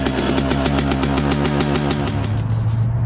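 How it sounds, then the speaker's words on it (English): A motorcycle engine with a fault cranks and sputters with a rapid, uneven rattling pulse, then shifts to a rougher, lower idle near the end, loud and close. "It's making a weird fucking noise when I try to start it."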